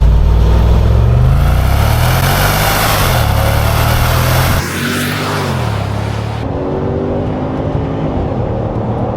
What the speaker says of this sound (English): Now, let's take this car for a proper drive.